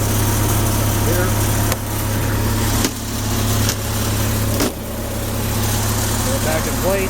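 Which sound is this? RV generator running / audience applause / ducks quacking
RV generator running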